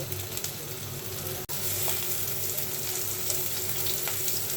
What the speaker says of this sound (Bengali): এখন আমি পেঁয়াজ, রসুন, কাঁচা ঝালটা আমি সুন্দর করে একটু ভেজে নিচ্ছি